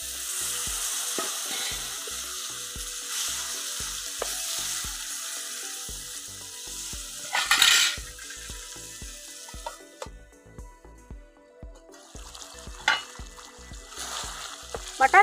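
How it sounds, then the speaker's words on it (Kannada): Cooked mutton stock is poured into mutton masala frying in a pan, bringing a watery splash and bubbling over a low sizzle, with stirring scrapes and occasional clinks, close and unaccompanied by talk. "ಸ್ವಲ್ಪ ಮಟನ್ ನೀರು ಬೇಯಿಸ್ಕೊಂಡಿರೋ ಮಟನ್ ನೀರು ಹಾಕ್ತಾ ಇದ್ದೀನಿ ಸ್ವಲ್ಪ."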